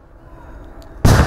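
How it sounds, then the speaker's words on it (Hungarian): A single heavy cannon blast from a birthday gun salute for Queen Elizabeth II booms suddenly after a second of low outdoor rumble, loud and close, cutting off the quiet. "Ágyúszó már a születésnapon is járt a királynőnek"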